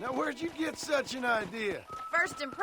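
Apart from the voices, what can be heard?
No distinct noise like a dog, phone or traffic.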